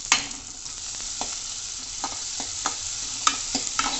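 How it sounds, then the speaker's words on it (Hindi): Onions fry in a pan for dal makhani, giving a steady close sizzle broken by scraping stirs every second or so. "गोल्डन ब्राउन होने तक हम इस प्याज को अच्छे से भूनेंगे"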